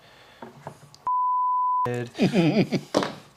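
A single steady electronic beep sounds for under a second between stretches of speech, loud and clean.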